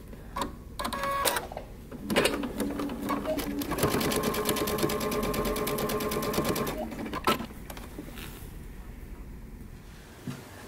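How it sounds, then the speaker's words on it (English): A home sewing machine runs in a steady, rapid mechanical rattle for several seconds, stitching across the top of a pants fly. It starts and stops with short bursts on either side. "we're going to stitch across the top"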